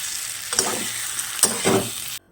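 Egg and potato curry being sautéed and stirred with spices in a pan, a steady close sizzle broken by a few sharp scraping stirs, ending abruptly.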